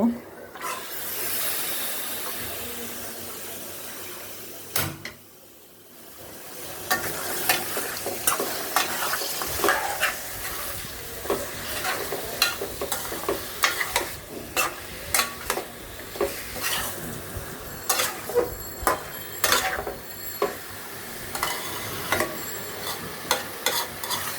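Meat for biryani sizzles and hisses in a hot wok while a utensil scrapes and clatters rhythmically, stirring it close up, continuous and fairly loud.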